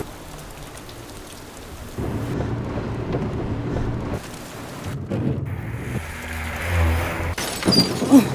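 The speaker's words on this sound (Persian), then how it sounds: "بارون اومده زمین خیسه" Steady rain falls on wet ground outdoors during a thunderstorm, a dense continuous hiss that swells and thickens partway through, with low rumbling beneath and no talk.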